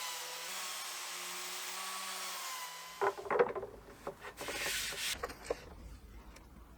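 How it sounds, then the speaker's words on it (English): A chisel squares up the corners of a woodworking cut in scaffold board, giving close scraping and rubbing strokes with a few sharp taps, following a steady machine hum that cuts off abruptly. "Now squaring up the corners with a chisel."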